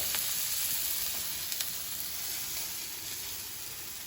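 Steady sizzling of steak searing in a hot pan, a constant bright hiss with a few small pops, close and fairly quiet.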